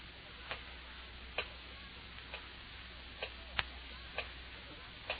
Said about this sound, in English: Ticking.